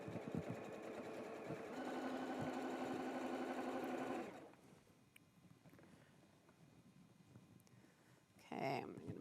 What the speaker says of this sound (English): So give it a little stitch back.